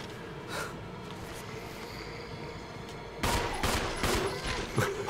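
Gunfire in the Resident Evil HD Remake video game, starting with a low rumbling game ambience and then turning into a quick run of loud close shots in an irregular burst, with no talk over it.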